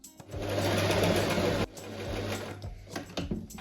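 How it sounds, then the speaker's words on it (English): A sewing machine runs a straight stitch along a pinned seam for a dress: a steady close motor whir with fast needle rattle, pausing briefly and resuming in a shorter, slower burst, no voices. "we're going to sew along these 2 lines that we just pinned with a straight stitch and a seam allowance of 1 centimeter"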